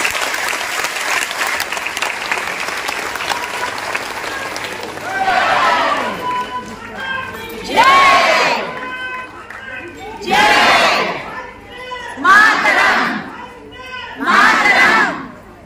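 A crowd at a Patanjali yoga gathering in Dadar claps and cheers in several strong, swelling bursts. The bursts come after a stretch of someone speaking over a microphone, with quieter pauses between them.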